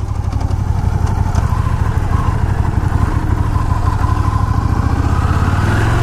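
A Buell V-twin motorcycle engine runs close and loud with a steady, pulsing rumble that holds throughout, no talk over it.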